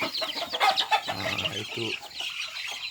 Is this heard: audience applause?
no